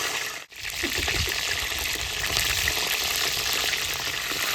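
Hot oil sizzles and crackles steadily as washed, still-wet eggplants fry, after a brief dip near the start, a dense spattering hiss with scattered pops, no talking.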